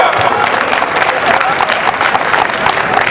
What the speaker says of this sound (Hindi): जोरदार ताली बजा दिया।